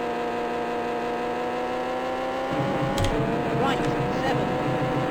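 A car engine labouring uphill in third gear over snow in a driving game, a steady droning hum that deepens and roughens midway, with a few sharp knocks and a voice talking over it.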